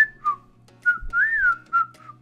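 A clear whistle plays a short melodic phrase of several sliding, rising and falling notes in a K-pop performance, bright and prominent with a faint low rhythmic backing beneath.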